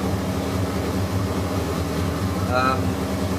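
A VW 16V ABA engine in a 1983 Rabbit GTI idles with a steady, even drone throughout, and a brief rising whine near the end.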